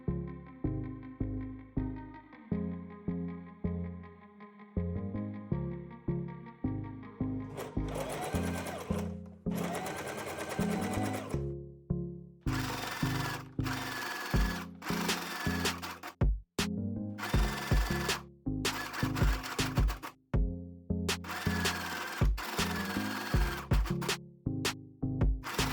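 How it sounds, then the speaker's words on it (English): A sewing machine stitches a facing along a knitwear neckline, its needle chattering in bursts of rapid, close, steady stitching separated by short pauses. "you can fix its position with a machine stitch"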